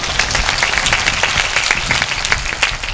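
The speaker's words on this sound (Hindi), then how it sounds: "लोक ताली मारा जोर से" A church congregation at an Odia-language Christian service bursts into loud, sustained clapping, a dense continuous patter of many hands close by with no voices over it.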